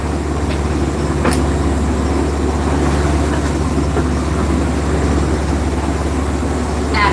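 A sailboat's motor runs at 1500 RPM at sea, giving a constant loud low hum and rumble with no pauses, over faint rain and water noise.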